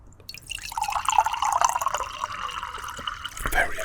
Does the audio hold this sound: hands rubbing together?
no